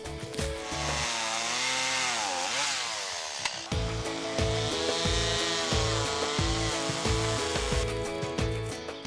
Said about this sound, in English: I've got the chainsaw and the scout